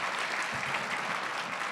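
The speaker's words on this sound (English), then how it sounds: "let's give him a round of applause for being here" An audience at a state teachers' union gubernatorial candidate forum applauds the state superintendent, a brief steady wash of clapping that holds at an even moderate level throughout.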